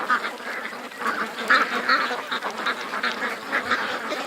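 Ducks quack busily at the mouth of a creek, with a dense, overlapping chorus of close calls that continues throughout.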